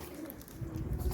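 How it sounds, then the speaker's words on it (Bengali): Pigeons on a balcony coo and call in a low, throaty murmur that swells toward the end, with faint rustling underneath and no one talking. "আমাদের পায়রা যুদ্ধ লাগিয়েছে, দেখো দেখো কেমন যুদ্ধ করছে বসে বসে"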